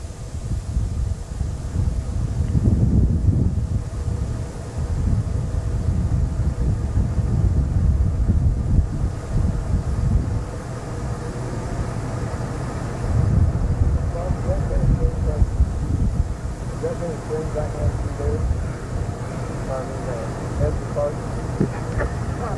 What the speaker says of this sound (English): You're definitely going to be picking up some wind in this.